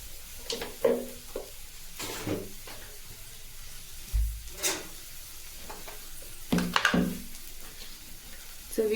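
Chopped dill greens (shepu) tossed into a pan of cooked moth dal, giving soft sizzling and hissing with scraping and stirring bursts at intervals, fairly close and moderate in loudness.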